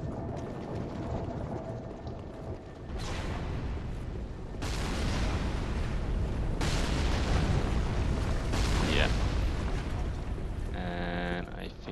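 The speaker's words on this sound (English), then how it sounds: "I think the ballista still can shoot us here." A ballista firing in the video game Dark Souls 3, with heavy booming impacts and rumbling blasts that cut in abruptly and sustain loudly in game audio, ending with a brief tonal chime.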